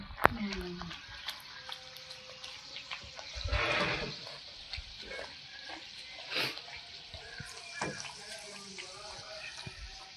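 Handmade luchi bread fries and puffs in hot oil with a steady soft sizzle, plus a few louder bubbling surges as the dough is moved about.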